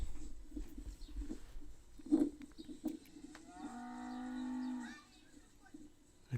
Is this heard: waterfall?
no